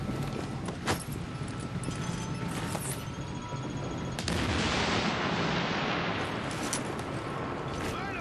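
Gunfire and sniper shots in The Division video game crack out in sharp bursts, a few loud single reports over dense ongoing battle noise, with a heavier roar building partway through.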